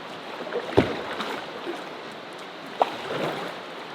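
Small paddled boat on a river heading back with the current, a couple of sharp paddle knocks against the hull over soft water trickle and a quiet outdoor background.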